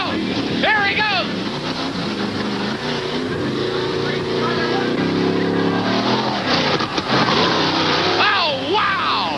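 Racing truck roaring around a race track turn in 1988, a sustained engine drone with shifting pitch under continuous announcer commentary and wind noise.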